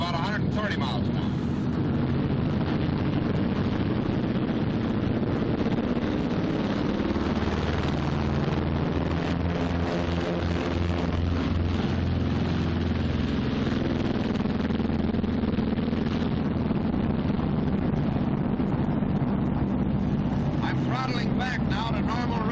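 A World War II B-26 bomber's twin engines roar through takeoff, a broad, continuous droning rumble that holds steady with a voice talking over it.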